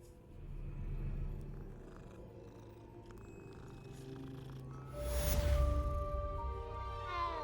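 A cat in the video game Hogwarts Legacy purrs with a low steady rumble, then lets out a loud, close meow followed by a shorter tonal mew, with game ambience underneath.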